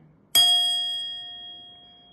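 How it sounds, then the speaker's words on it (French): A single bell strike rings out clearly, a bright ding with a long ringing decay that fades slowly over two seconds, with nothing else in the background. "Ma cloche te fait te sentir bien."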